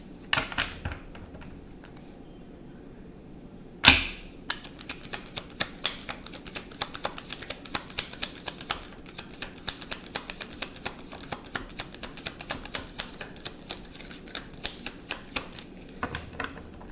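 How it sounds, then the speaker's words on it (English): Steady run of soft rapid clicks and flutters as tarot cards are shuffled up close, with a sharp snap near the start and no talking. "I'm going to shuffle one more time."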